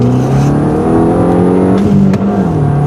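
An Audi A3 with a stage 1 tune accelerating hard, a loud, steady engine drone rising in pitch, heard up close without speech.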